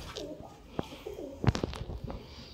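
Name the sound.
wild pigeons cooing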